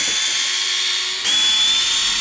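A power driver whines steadily as it backs out 2.5 mm hex screws on an Arrma Kraton 6S V5 RC car, running loud and close with a brief shift in pitch midway, no talking.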